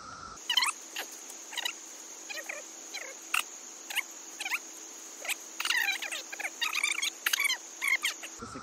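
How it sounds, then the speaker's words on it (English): Cicadas drone loudly outdoors at a spring campsite in Felsenmeer, a steady high buzz overlaid with repeated sharp chirping pulses at an irregular rhythm, close and continuous with no talk. "The cicadas are as loud as ever."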